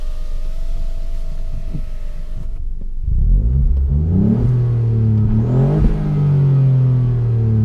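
2018 Ford Fiesta ST engine heard with the windows down, a faint steady idle first, then a louder throaty rev from about three seconds in, rising and falling in a few close blips.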